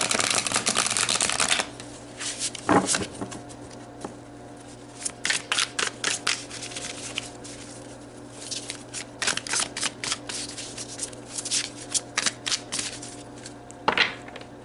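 Tarot cards being shuffled up close: a long riffling burst at the start, then repeated quick snapping flurries and soft card slaps spread across the span, with no speech.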